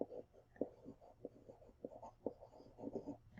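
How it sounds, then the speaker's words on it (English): A pen scratches a name onto a greeting card in short, quiet strokes with brief pauses between letters, close and faint, with no talking. "and then I'm going to write my name"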